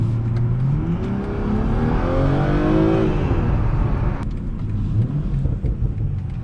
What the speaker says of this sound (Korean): 머플러에서 뭐 들려오는 사운드는 상당히 어그레시브하고 엄청나게 큰 사운드가 들려옵니다